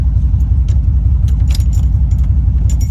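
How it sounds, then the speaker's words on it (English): A 1967 truck fitted with a 6.7 Powerstroke diesel idles loudly and steadily up close, with a rapid low throb, while keys jangle and clink in brief bursts over the engine. "the truck is still running and the key is not doing anything"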